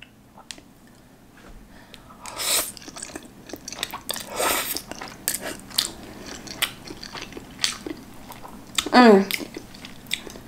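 Close-up slurps, bites and chewing of jajangmyeon noodles come in irregular bursts, with a longer noisy slurp near the end and some clinks between mouthfuls.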